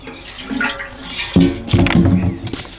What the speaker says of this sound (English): I'm just going to water it before I actually sow it because it's so dry.